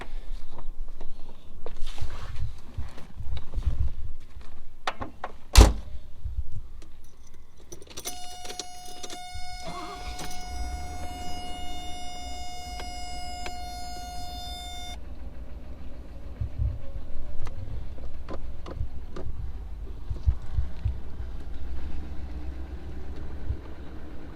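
A 1980s Mercedes SL roadster starts out on a drive: handling clatter and a sustained tonal chime give way to a low, steady engine rumble that continues at close range with no talking.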